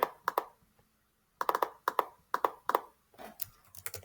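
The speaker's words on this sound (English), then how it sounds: "we'll just go back to typing here" Short bursts of key taps on a keyboard, close and quiet, with brief pauses between groups of keystrokes.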